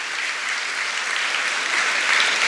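A large audience applauds continuously at a speech event, a dense, steady roar of clapping that swells slightly toward the end and has no voices over it.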